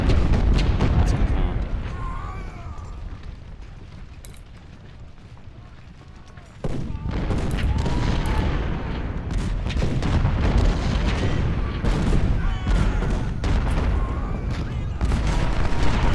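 Gunfire and artillery from a Battle of Antietam game in Ultimate General: Civil War: a low rumbling roar at first, then a dense run of booms and shots that grows louder, with someone speaking over it.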